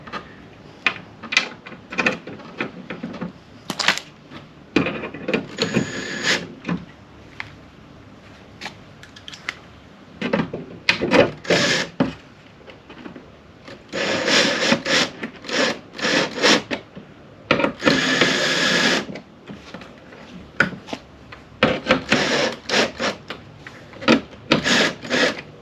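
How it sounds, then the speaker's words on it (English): Work on a carbon fibre licence plate surround being offered up and screwed down: intermittent scraping, rubbing and clicking bursts of handling and screwdriver turning, close and fairly loud, separated by short pauses. "I'm just going to offer this up before I screw it down"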